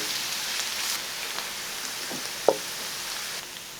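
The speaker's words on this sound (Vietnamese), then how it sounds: "Cho vào chảo 2 muỗng canh dầu. Và cho vào 1 muỗng canh hành tỏi băm. Phi thơm lên." Minced shallots and garlic fry in two tablespoons of hot oil in a pan, giving a faint, steady sizzle with a sharp clink near the middle.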